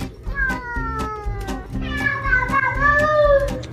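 A cat meows loudly and repeatedly up close, drawn-out wavering cries that grow into a yowling caterwaul, with faint background noise beneath.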